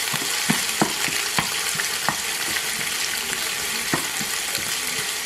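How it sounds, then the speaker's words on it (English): Seasonings saute in hot oil for Jamaican tin mackerel, with a dense, loud, continuous sizzle. Regular spoon taps and scrapes against the pot run through it, and nobody speaks. "throw my seasonings in just to saute"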